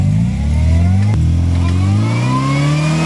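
An off-road vehicle on mud tires claws uphill, its engine revving and climbing in pitch, loud and close, with a brief gear change midway.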